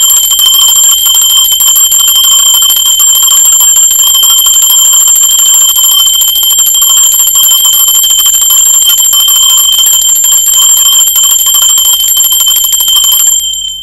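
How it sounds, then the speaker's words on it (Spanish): A loud, bright bell rings continuously with a sustained metallic shimmer, close and alone, stopping abruptly at the end. "Generalmente es un sonido intenso el de la campana"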